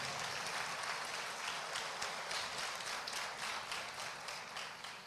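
A church congregation claps in a sustained burst of applause that rises and then slowly fades, a dense wash of hand claps heard alone without talk.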